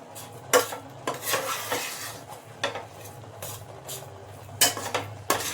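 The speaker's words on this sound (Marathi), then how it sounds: "छान असं हलवत राहायचंय, नाहीतर खाली सुद्धा चिटकू शकतो शिरा आपला." Wheat flour halwa with jaggery being stirred in a pan over low heat, with repeated scraping strokes and clinks of the spoon against the metal over a faint sizzle, close and alone.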